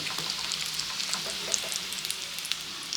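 Prawn chops frying in hot oil on a lowered flame, a close, steady sizzle with scattered crackles and pops, no voices.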